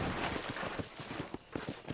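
Faint hoofbeats clop in a quick, steady rhythm, like a horse trotting, quiet and somewhat distant under a soft background hiss, in Red Dead Redemption.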